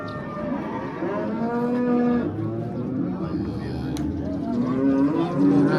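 Cattle low and moo repeatedly amid a noisy livestock market in Gurlan, with voices and crowd chatter mixed in the background.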